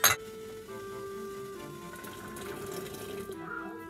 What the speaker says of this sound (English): Looks like it's boiling.